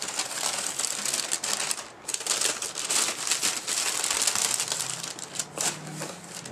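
Tissue paper crinkles and rustles continuously while a pair of Kobe 5 sneakers is unwrapped from the box, a dense, close, crackling paper sound with brief pauses and no talking.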